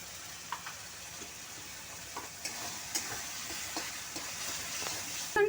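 Tomato-paste masala frying in hot oil for a Bengali potol chicken dorma, with a spoonful of cashew paste stirred in; a steady close sizzle runs throughout, broken by scattered spoon scrapes and taps, and no one speaks.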